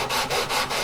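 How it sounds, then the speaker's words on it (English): Sandpaper of 220 grit rubs back and forth along the fretboard of a 1965 Martin 000-18 guitar during prep for a refret, giving about three quick, close, gritty strokes in a brief rhythmic burst. "You sand straight from the center line of the fretboard"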